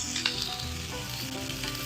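Sausage sizzles and fries steadily in a pan at close range, a dense crackling hiss with occasional stirring and no talking.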